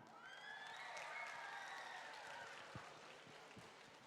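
Young scholars at the WSC 2021 opening ceremony in Shanghai applaud and whoop, a broad wash of clapping with high cheers and whistles rising above it.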